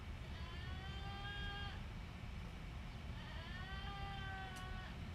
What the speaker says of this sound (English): Enjoy the goats. They're saying good morning to you.